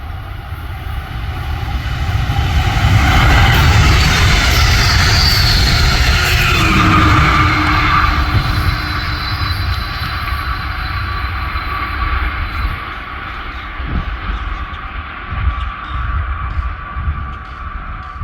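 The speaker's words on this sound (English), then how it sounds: "I walked down to the old crane to wait for the next Amtrak Keystone" An Amtrak Keystone passenger train passes near an old crane in Pennsylvania rail country as a loud, broad rumbling roar. It swells and holds for several seconds, then slowly fades as the train moves away, with scattered rattles near the end.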